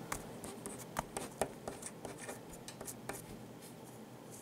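A pen scratches across paper while writing a number, giving quick, close scratchy strokes and taps in an irregular rhythm.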